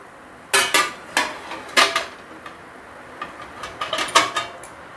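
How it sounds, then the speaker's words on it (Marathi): A metal lid clatters as it comes off a pan while ghawane cook, with a series of sharp clinks and knocks close by, a few spaced out and then a quicker cluster near the end, with no talking. "तर हे बघा, हे कवर काढून घ्यायचं."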